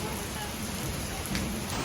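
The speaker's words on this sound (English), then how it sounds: "We've got caught in the rain, which is always fun in Singapore, because when it rains, it really rains." Heavy rain in Singapore pours down in a dense, continuous hiss of drops hitting surfaces, loud and steady for the whole moment.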